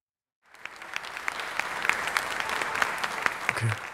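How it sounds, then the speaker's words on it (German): Audience applause greeting the first act of a German spoken-word show, starting abruptly after a moment of silence and swelling into steady, dense clapping that holds to the end. "ihr begrüßt jetzt gleich bitte auch schon unseren ersten Auftritt, klatscht durch eure Bildschirme durch"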